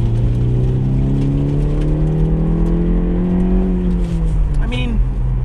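A 2016 Honda CR-Z engine revs up steadily, its pitch climbing and dropping through gear changes, loud and close, with a brief higher whine near the end.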